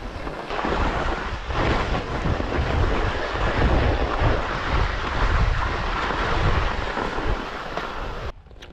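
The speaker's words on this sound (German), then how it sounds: "Viel windiger ist es heute wie gemeldet." Strong wind buffets the microphone on the 3121 m summit of Böses Weibl in the Austrian Alps, a continuous deep roar with surging gusts that fades abruptly near the end.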